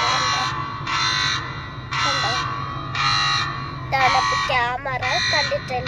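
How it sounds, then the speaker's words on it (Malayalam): A mobile phone alarm warning of a nearby AI traffic camera beeps in a steady series of loud, regular buzzing pulses about once a second while someone talks over it inside a moving vehicle. "ഇപ്പൊ നമ്മളെ 500 മീറ്റർ ഉണ്ട്, മൊബൈലിൽ അലാറം അടിക്കുകയാണ്."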